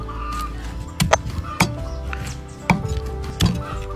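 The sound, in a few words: chopping fried stingray fish into pieces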